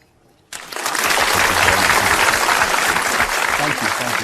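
Silence breaks into sudden loud audience applause that swells within a second and holds steady and dense, with murmuring voices under the clapping.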